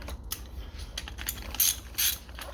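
A ratchet tightening a fork bolt on an Apollo pit bike, a quick series of close clicking ratchet strokes over a low background hum.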